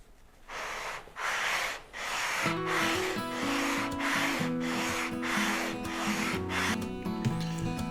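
A radius block sands a guitar fretboard in a series of back-and-forth swipes, a steady rasping scrape repeated roughly every second, close and fairly loud, with no talking.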